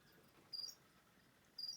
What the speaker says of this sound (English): You can hear the crickets in the background.